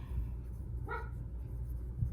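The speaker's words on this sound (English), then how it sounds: "there's my dog barking if you can hear her" A single faint dog bark sounds from somewhere away from the microphone, one brief yip in the middle of a quiet room hum.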